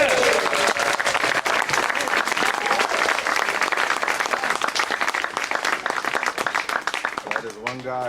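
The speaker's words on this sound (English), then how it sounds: "So let's give Mark another round of applause." Audience applause for Mark at a celebration gathering, a loud, full burst of many clapping hands held steadily for several seconds with some voices mixed in, easing near the end.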